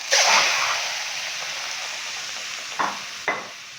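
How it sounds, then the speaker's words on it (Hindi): About 1.5 kg of fatty dumba lamb meat hits a hot karahi for a Peshawari charsi karahi, giving a loud, steady sizzle that starts sharply and is broken by a couple of brief clatters near the end. "अभी हम कढ़ाई के अंदर गोश्त डालेंगे।"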